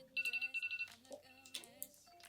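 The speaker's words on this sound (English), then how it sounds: "timer's up" A phone-style timer alarm sounds a quick series of repeated electronic beeps in pulses during a five-minute makeup challenge, with a person talking briefly afterward.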